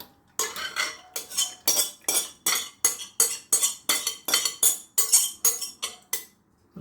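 Metal spoon scraping and clinking against a clean pan while thick hawthorn berry ketchup is poured back in, a steady series of about fifteen loud rhythmic clinks and scrapes with no talk.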